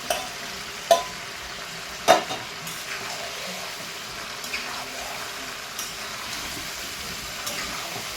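Marinated mutton added to fried onions in a pan, a soft steady sizzle with several sharp clanks of a spoon against the pan in the first seconds and lighter stirs after.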